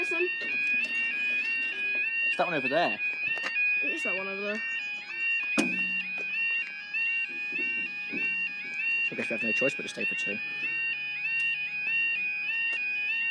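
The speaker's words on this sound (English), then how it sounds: "That alarm's really loud for an interview." A level crossing alarm rings at Berwick Station in East Sussex, a loud, repeating two-tone electronic warning that runs throughout while people talk nearby.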